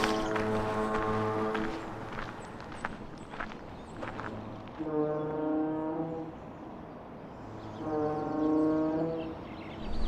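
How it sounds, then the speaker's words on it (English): Deep foghorns at the entrance to San Francisco Bay blast in long, repeated tones that carry across open water, with footsteps and faint clopping nearby between the blasts. "The foghorns are a beacon for the boats traversing the entrance to the bay"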